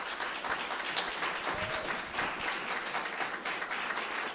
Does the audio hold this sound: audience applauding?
yes